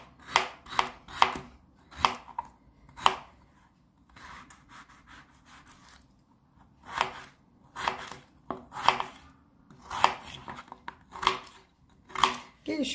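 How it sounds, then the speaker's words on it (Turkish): A knife chops garlic rapidly on a cutting board in quick bursts of sharp taps, with short pauses between runs; close and fairly quiet. "4 diş sarımsağımızı da şöyle iri iri doğruyoruz."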